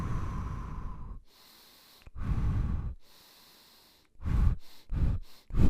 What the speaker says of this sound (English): bigger inhale